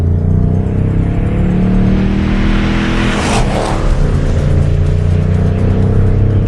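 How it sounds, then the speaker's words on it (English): A Ford Mustang's deep 5-litre V8 engine revs hard and steadily, loud and close, its rumbling note swelling briefly in the middle before settling back. "where the Mustang already sounded great with its 5-litre V8"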